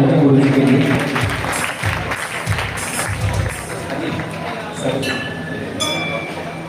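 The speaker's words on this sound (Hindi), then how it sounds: "एक बार जोरदार तालियां बजाने की गुरुजी के लिए" A crowd at an Ekadashi kirtan at the Shri Shyam temple in Sri Ganganagar claps loudly, mixed with a rumbling, clattering din and bright ringing tones.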